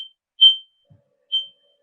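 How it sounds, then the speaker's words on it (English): A home smoke alarm chirps two short, shrill high-pitched beeps about a second apart, clear against near silence, with a faint soft knock between them and no talking. "That's my smoke alarm."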